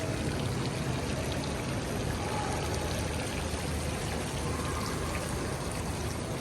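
Water pours steadily from the nostrils of a sculpture near Tower Bridge in London, a continuous dense splashing rush that stays fairly even throughout, with no voices over it.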